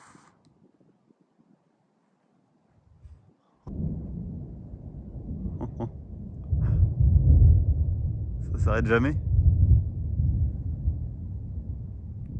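Thunder from a strong storm in Indre-et-Loire rolls in after a near-silent start, a deep, sustained rumble that swells and lingers, and someone speaks briefly over it.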